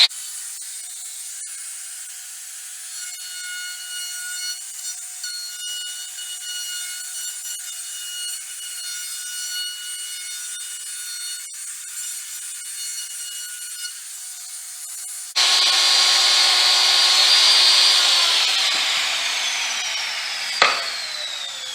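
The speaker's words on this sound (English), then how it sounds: "DeWalt compact router with a 1/8 inch round over bit by 1/4 cable." A DeWalt compact router with a 1/8 inch round over bit shapes the edge of a maple board for a charcuterie board, a steady high-pitched whine that jumps to a louder, rougher cutting roar partway through, close up with no talk.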